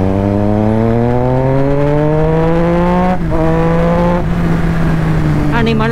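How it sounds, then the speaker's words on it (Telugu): A Triumph Street Triple 675 motorcycle engine revs hard under throttle, its loud, close tone climbing steadily in pitch with wind rush, then dipping briefly and holding high again. "మీ అందరికి పవర్ చూపించడానికి ఐఎమ్ గివింగ్ దిస్ థ్రాటిల్."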